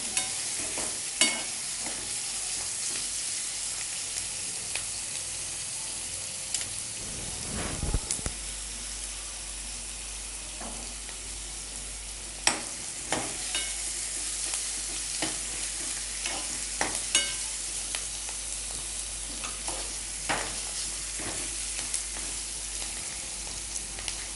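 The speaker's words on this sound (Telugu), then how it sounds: "కొంచెం ఆనియన్స్ వేగాక, ఆనియన్ పీసెస్ వేగాక కొంచెం గోల్డెన్ బ్రౌన్ వస్తే బాగుంటుంది" Onion pieces frying in a pan, giving a steady sizzle throughout while a spoon stirs them and scrapes the pan with intermittent clicks, close up and with no talking.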